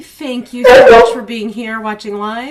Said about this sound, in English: so you may hear her barking in the background.